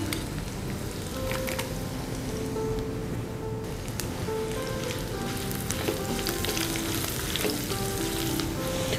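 Steady, dense sizzling of cashews and raisins frying in hot oil with curry leaves for upma, continuous crackle with occasional louder pops, close and fairly loud, no talking.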